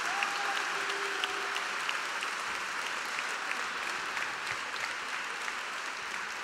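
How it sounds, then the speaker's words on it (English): Sustained crowd applause filling a sport pavilion at a Muay Thai event, steady dense clapping at moderate distance with no talk over it. "A round of applause by the sport pavilion for Blasi"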